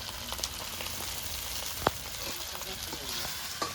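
Tomato and capsicum frying in a pan with ground spice pastes, a steady close sizzle throughout with one sharp clink of a utensil midway.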